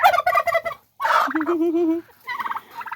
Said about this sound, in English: And back into the big pen with the turkeys and... Yes, the turkeys.